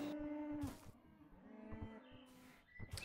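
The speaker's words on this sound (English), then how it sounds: "this is the cow and sheep farm. Um, it it's very loud. There are a lot of cows." Cows and sheep on a crowded video game farm, several overlapping moos and a bleat sounding in quick succession, faint and slightly distant, with no talking.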